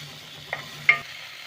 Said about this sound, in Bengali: মশলাগুলোকে এবার আমি একটু কষে নেব গ্যাসের আঁচটা কিন্তু আমি কমিয়ে রাখবো